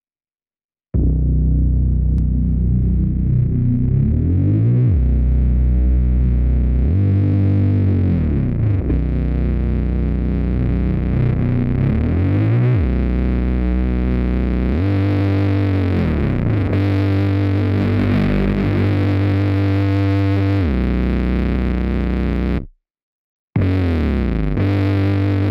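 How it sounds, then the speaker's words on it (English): A heavy trap-beat bass line runs through Camel Crusher distortion that builds steadily over the intro, the tone growing grittier with each deep repeated note. It plays loud and alone, then cuts out briefly near the end. "I added some Camel Crusher and made an automation clip where the distortion increases over the first 8 bars of the intro"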